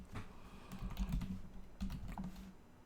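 Keys clatter on a computer keyboard in two short bursts of quick typing, close and moderately loud, with a brief pause between them and no talking.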